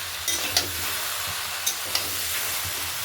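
Vegetables and a catla fish head stir-fry in a hot pan, a steady close sizzle with brief scraping stirs breaking through now and then.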